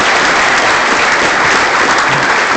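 Loud, dense applause from a crowd at a birthday celebration for Bobby Bowden at a quarterback club, continuous and even throughout the short stretch.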